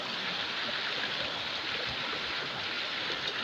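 River flowing beside a campsite, a steady broadband rush of water close by, continuous and even with no talk over it.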